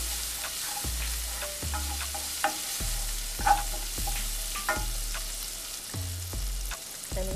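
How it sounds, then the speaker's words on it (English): Food sautéing in a pan, a steady soft sizzle with a regular series of scraping stirs and low knocks from the utensil against the pan. "We'll just saute that for a little bit."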